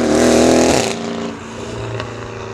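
A modified 620-horsepower Mercedes CLS63 AMG with changed downpipe and midpipe roars loudly at high revs, then drops to a deep, rumbling idle with a brief blip of throttle.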